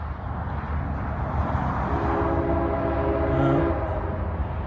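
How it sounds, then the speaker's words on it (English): A slow-moving CSX freight train approaching and passing: a loud, steady rumble with sustained horn tones sounding over it, close and continuous. "it's a CSX freight train"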